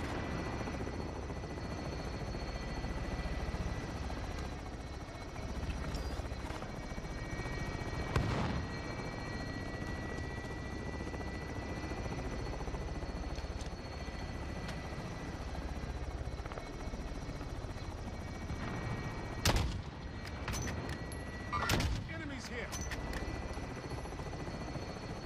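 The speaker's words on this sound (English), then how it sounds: "Extraction helo is exiting the AO." The extraction helicopter in the Call of Duty Warzone video game gives a steady rotor thump and engine drone throughout, with sharp gunfire bursts and booms breaking in near the end.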